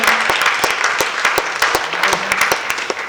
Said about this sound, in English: I usually get a clap after me poem.